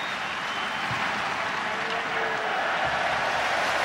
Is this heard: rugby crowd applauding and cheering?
yes